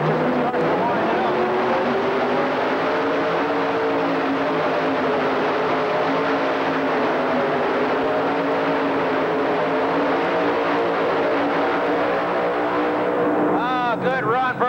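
The engine of a two-wheel drive Dodge pulling truck winds up to a loud, sustained roar that holds steady for the whole run, with a commentator talking over it.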